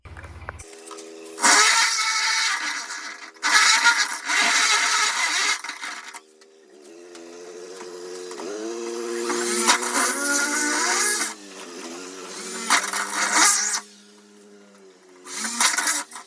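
A power tool cutting and widening a circular hole in a Scorpio tailgate during a conversion, with several loud whining bursts of several seconds each separated by brief pauses, close up.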